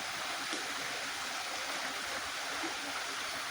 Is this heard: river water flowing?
yes